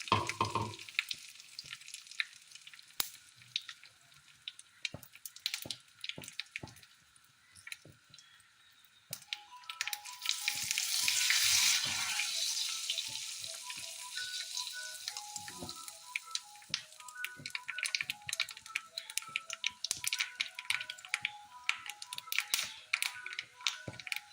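Mustard seeds popping and spluttering in hot oil, with curry leaves added, for an Onam mango pachadi: a steady sizzle full of rapid sharp crackles, swelling into a louder hiss midway, close and without talk.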